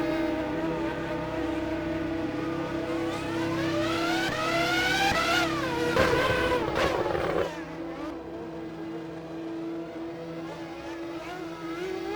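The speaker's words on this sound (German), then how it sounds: "Panis fährt an die Box." Formula One car from the 1999 Monaco Grand Prix in F1 Challenge 99-02, its engine whining with rising and falling pitch sweeps as it slows and enters the pits, then a steadier lower idle-like drone.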